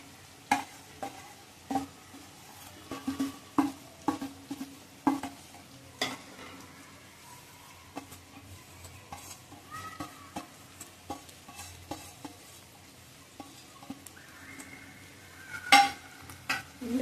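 Vermicelli being stir-fried in a pan with cooked vegetables: intermittent spatula scrapes and taps against the pan over a faint, steady sizzle, close and fairly quiet, with irregular pauses between strokes.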